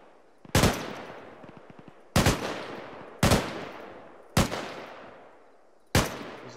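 Gunfire in the military shooter Arma 3 during multiplayer milsim play: five loud, sharp single shots spaced about a second apart, each with a long echoing decay, no talk.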